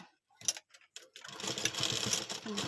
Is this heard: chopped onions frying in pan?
no